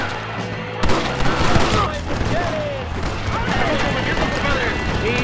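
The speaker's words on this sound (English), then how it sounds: "Look out, John! Machine gun!" Machine gun fire in Red Dead Redemption rattles in sharp bursts with cracking impacts, starting abruptly just before the one-second mark and continuing under shouting voices and game sounds.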